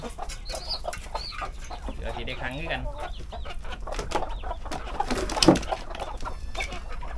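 Chickens at a backyard coop cluck and crow on and off close by, with people talking over them throughout.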